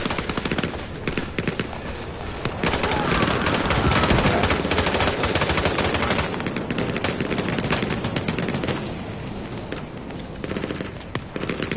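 Rapid bursts of automatic gunfire and single shots in the World War II shooter game Hell Let Loose, dense and loud, crackling almost continuously with a few brief lulls, no speech.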